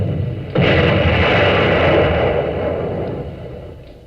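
Cannon blast sound effect in a vintage radio cereal advertisement: a sudden loud boom that swells into a sustained roaring rumble, then slowly fades over a few seconds.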